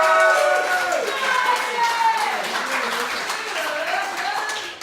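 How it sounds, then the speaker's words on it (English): A comedy night crowd at a Ballyheigue fundraiser for Pieta House breaks into loud, dense applause mixed with cheers and whoops, sustained for about five seconds before tapering slightly at the end. "Can you give Ted an absolutely massive round of applause"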